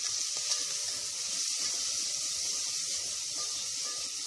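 Onions, tomato and green chillies frying in a pan for a mutton curry, a continuous close hiss of sizzling oil with faint light crackles and no talk.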